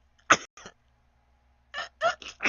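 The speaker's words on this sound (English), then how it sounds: "excuse me, I got to sneeze" A man sneezes at close range: one sharp, loud burst with a smaller follow-up, then after a pause a quick cluster of several more bursts, with no talk in between.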